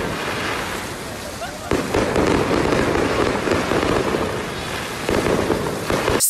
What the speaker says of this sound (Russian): скоро начнет бабахать праздничный салют